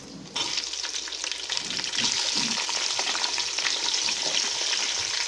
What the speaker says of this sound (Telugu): ఒక నిమిషం వేగిన తర్వాత ఇప్పుడు కట్ చేసి పెట్టుకున్న ఉల్లిపాయలు వేసుకోవాలండి